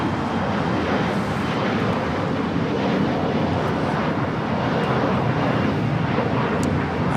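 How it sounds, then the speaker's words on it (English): At LAX, a Qantas airliner arriving from Sydney taxis toward the gates at Tom Bradley International, giving a continuous, fairly loud broadband jet whine and rumble with no break and no voices. "Qantas Flight 11, the flight coming in from Sydney, Australia, heading into the gates there at Tom Bradley International"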